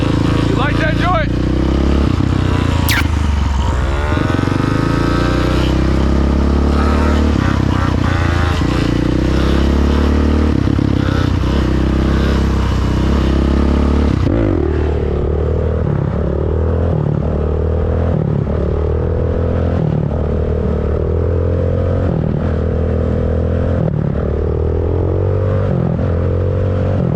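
A dirt bike engine runs and revs steadily throughout, its harmonic drone rising and falling, loud and close under frequent casual talk between several people.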